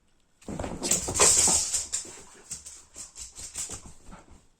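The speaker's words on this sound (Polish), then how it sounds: "Kto to warczy na panią?" A dog growls and snarls in short bursts at night, one louder rumbling stretch followed by a series of rhythmic, fading growls, close to the microphone.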